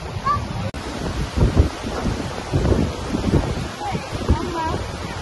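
Sea waves and gusty wind at Mandarmani beach, with the wind buffeting the microphone in uneven rumbling surges and people talking nearby.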